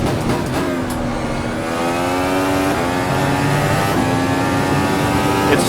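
A race car accelerates hard on the throttle after braking, its engine note climbing steadily through the revs, loud and close throughout with no talking.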